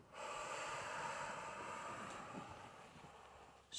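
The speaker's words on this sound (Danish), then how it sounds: "Og så lav sådan lidt forceret udånding på vej tilbage." A long forced exhalation during a breathing exercise: a steady breathy rush of air lasting several seconds, close and fairly soft, with no talk during it.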